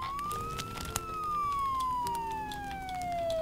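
A fire engine siren wails in the farm simulation game Farm Manager 2021, one long rising then falling tone sweeping steadily over a low engine rumble, clear and alone.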